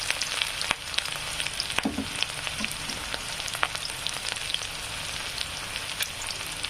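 Wild greens gathered from the farm field go into a pan of fried onion and fry with a steady hiss, broken by a few scattered crackles and the scrape of stirring, with no talk.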